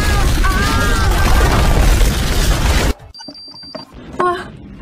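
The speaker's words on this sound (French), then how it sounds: "On aurait dit une explosion." Cartoon explosion effect in an animated fantasy series: a loud, sustained boom fills the first three seconds, then cuts off abruptly, followed by quieter tonal chimes and a brief sparkle.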